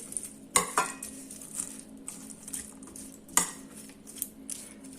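Spoon clinking and scraping against a bowl as green papaya salad with toasted seeds is mixed, with a few sharp clatters standing out from quieter scraping, close by and with no voices.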